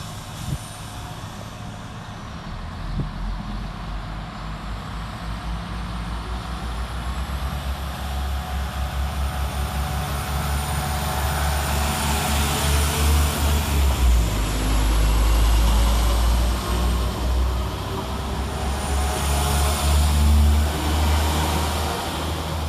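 West Midlands Railway Class 172 diesel units 172001 and 172003 rumble through a station, growing from a low drone to a loud, heavy roar with rising wheel and engine noise, then holding near.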